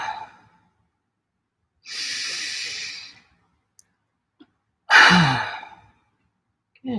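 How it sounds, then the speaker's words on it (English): Slow, deep breaths during a guided meditation, heard close and alone: a soft airy exhale at the start, then a long inhale, and a loud, audible sighing exhale. "really deep inhale and an audible exhale"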